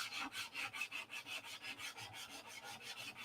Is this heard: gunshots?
no